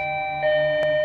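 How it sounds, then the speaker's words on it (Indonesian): A house doorbell rings once in a quiet room with a television playing, a brief chime standing out over a steady background tone. "Jun-yong yang sedang menonton TV terganggu karena seseorang memencet bel rumahnya."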